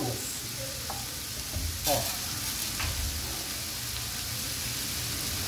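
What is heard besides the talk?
rice being added to a pan and frying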